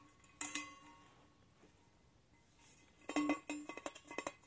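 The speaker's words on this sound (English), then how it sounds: "But look, this one turned into a frying pan." Metal pieces of a vintage camping cookware set, including a frying pan, clink and clatter in short scattered bursts at close range, quiet and alone between the knocks.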